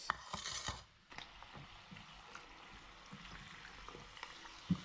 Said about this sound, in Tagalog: Pero yan, kumukulo na yung ating mga nilagay.